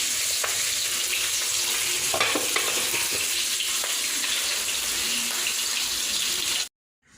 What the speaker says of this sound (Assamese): এই টেঙাখিনি এনেকৈ উতলি আছে ধুনীয়াকৈ উতলি আছে